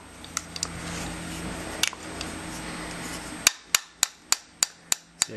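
A gun trigger's slave pin is tapped out with sharp metallic taps, a few scattered light ones over a steady background hiss, then a regular series of about seven crisp, close clicks near the end.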